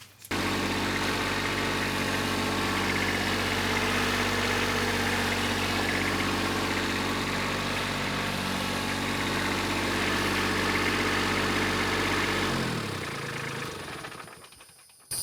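A Kubota B2601 compact tractor engine idles steadily and loudly close by, a constant low diesel rumble with vibration that runs unchanged for about twelve seconds before the engine shuts down and falls quiet.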